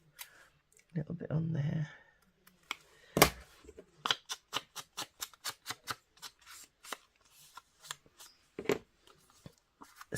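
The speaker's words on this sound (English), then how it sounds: "I just need to snip" Scissors snip paper for a papercraft folio, a quick run of crisp, close cuts ticking in a steady rhythm after a brief bit of quiet talk.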